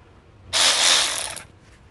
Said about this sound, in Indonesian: Nagawa Ratchet 3/8.